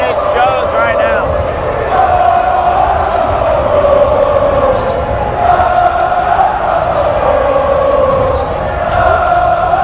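A basketball crowd at a Chaminade game roars loudly and continuously throughout, with swelling cheers and a commentator's voice running over the din.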